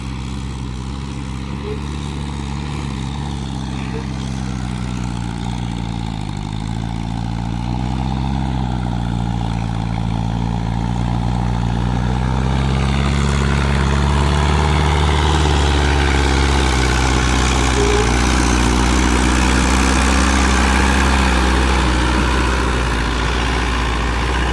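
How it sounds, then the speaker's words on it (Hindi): A Mahindra Arjun 605 tractor pulling a fully loaded trolley climbs a steep slope of about 30 feet, its diesel engine a steady, heavy low drone that grows louder and more strained partway through, with no talk. "30 फुट की चढ़ाई है भाई, ये चढ़ेगा ट्रैक्टर अभी।"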